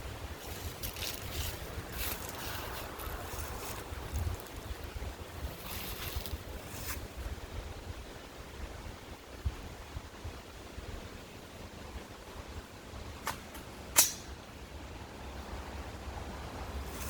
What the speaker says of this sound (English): it's windy as hell out here today, so audio is probably not going to be the best